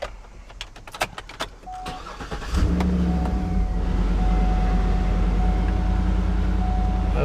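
A 2012 GMC Yukon Denali engine cranks and fires up after a few scattered clicks and knocks, then settles into a steady, close, rumbling idle with a faint whine on top.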